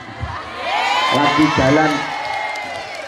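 Live audience at a comic religious lecture in Hong Kong bursts into cheering, whoops and clapping, a lively crowd swell lasting a couple of seconds while a voice speaks over it.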